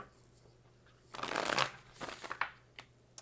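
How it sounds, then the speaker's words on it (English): A deck of tarot cards is shuffled close by in quick riffling bursts, with a dense flurry in the middle followed by a few softer taps and slides. "We're going to have one more shuffle, actually."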